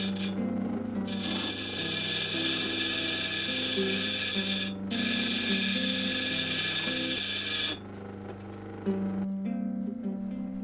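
A gemstone grinds against a coarse-grit lapidary wheel, the motor's steady hum carrying a harsh scraping whine that cuts off briefly, then resumes before trailing away near the end.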